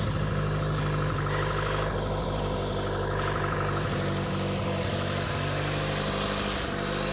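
The engine of a 1985 Honda Accord idles roughly and loudly up close, a steady low drone with an uneven, slightly lumpy pulse that never settles, running alone with no talking.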